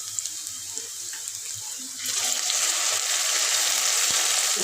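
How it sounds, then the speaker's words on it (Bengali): Water gushes into a cooking pot holding onions, potato and ginger-garlic paste for a country-chicken and potato curry; quiet kitchen sounds give way after two seconds to a loud, steady pour. "পানি দিয়ে দিচ্ছি।"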